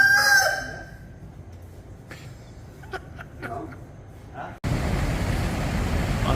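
A rooster crows loudly inside a restaurant, one strong drawn-out cock-a-doodle-doo at the start, followed by quieter room sounds and soft clatter before a sudden jump to louder, noisy ambience.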